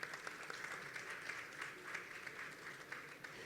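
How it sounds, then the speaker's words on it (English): Audience applause fills a conference session on influencer marketing, a steady wash of many hands clapping, moderately distant and even throughout. "So a big round of applause on that."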